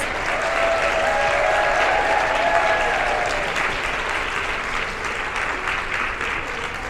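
An audience at an awards ceremony for women engineers applauds award recipients in steady, dense clapping that holds strong across the whole stretch, easing only slightly toward the end.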